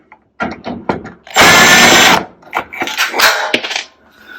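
Power drill backing screws out of a Whirlpool oven: a loud close whir of about a second, with clicks and handling clatter of tools and metal parts around it.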